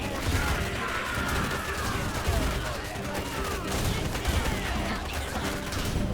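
Dense, continuous battle gunfire from a real-time strategy game duel in a winter finals match, with steady fusillade-like bursts and booms filling the mix throughout, and a commentator's voice faintly underneath.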